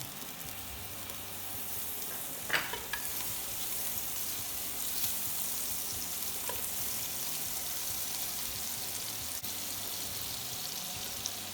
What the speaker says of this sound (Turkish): Ateşe koydum, ısıttım ve tereyağımı ilave ediyorum güveç çınağının içerisine